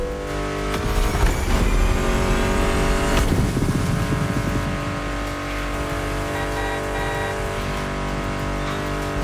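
Loud, continuous muscle car engines in The Crew Motorfest video game, including a Mustang GT, roar and rev with music layered over them, the drone steady throughout with a brief surge near the start.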